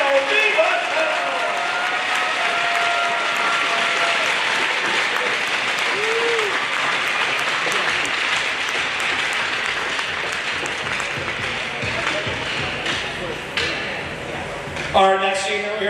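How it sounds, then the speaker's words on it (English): Applause at an ice hockey senior night honoring the team captain: a dense, sustained wave of clapping from a large crowd in an arena, steady throughout before tapering off at the end. "Let's have a nice round of applause for Captain Leo DiBattetto"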